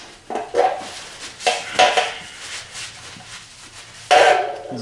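Metal parts of a Honda XR650L front fork clink and scrape as the cap comes off the center rod assembly, in several short knocks and rattles close by, with a louder clatter at the end.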